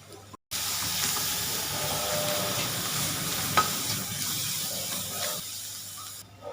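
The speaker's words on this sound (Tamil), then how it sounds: "வெங்காயம் இந்த அளவுக்கு வதங்குனதும் 1 ஸ்பூன் அளவுக்கு இஞ்சி பூண்டு விழுது, ஜிஞ்சர் கார்லிக் பேஸ்ட் போட்டுக்கலாம்" Sliced onions sizzle steadily in hot oil in a pan as ginger garlic paste is stirred in, a continuous loud frying hiss with occasional scraping of the spoon, close and without talking.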